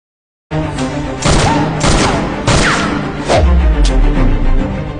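Heavy film gunfire in a Hindi action movie shootout: loud booming shots and bursts erupt abruptly after a moment of silence, followed by dense repeated volleys with crashing impacts.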